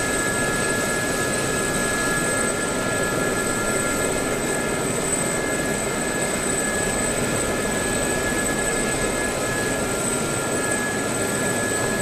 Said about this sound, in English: I want to hear changes in that rotor sound when I put it under stress.